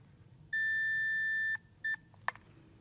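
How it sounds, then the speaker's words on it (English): A handheld brain-scanning device gives a sustained electronic beep, then a shorter matching beep and a final sharp click, clear and close against a quiet room. "When we get to the last beep, you'll get a reading."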